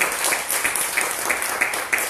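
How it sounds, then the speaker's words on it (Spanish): Church congregation applauding during a sermon at a Houston church, a steady wash of many hands clapping for about two seconds, moderately loud, with a few sharper claps standing out rhythmically. "dame un aplauso al Rey de Reyes"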